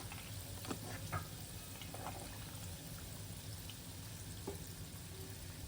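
Fasting bhaji fritters fry in hot oil, a steady close-up crackle and sizzle that continues throughout, with occasional soft clinks and stirring touches.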